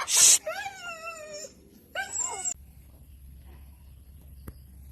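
A dog whimpers in two high, drawn-out whining cries while chickens are being slaughtered, the first longer and the second short, close by and fading into a quiet room.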